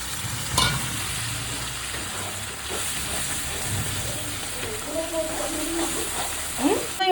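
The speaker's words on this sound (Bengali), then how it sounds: "নারকেলটা দিয়ে আবারও ভালো করে কষিয়ে নেব।" Grated coconut being stir-fried into a duck curry in a pan, a steady hiss and sizzle with scraping stirs and occasional clinks, with a voice talking intermittently over it.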